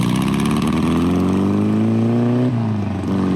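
Volkswagen Beetle engine fitted to a Manta Mirage, a three-wheeled polished-aluminum car, revving up steadily with a loud, rising mid-range drone, then briefly dropping near the end before picking up again.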